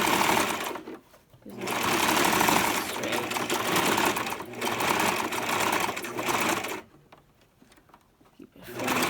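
A sewing machine runs forward stitching along a closure wig in long steady bursts, stopping briefly twice and then near the end before starting again.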